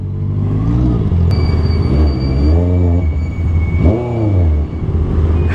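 Honda CBR650R motorcycle engine revving up and down in several rising and falling sweeps, loud and close, with a steady rumbling idle between revs.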